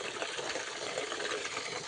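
A male buffalo drinking water on a farm, heard as a steady, close rush of splashing, gushing water that continues unbroken throughout, with no talking.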